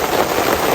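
Rain falls steadily outdoors as a dense, even hiss that lasts under a second without pause, with no voices.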